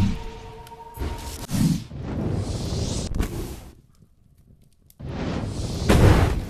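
Fire whooshes in the Blade and Sorcery VR game come in loud, roaring broadband bursts, separated by a brief near-silent gap.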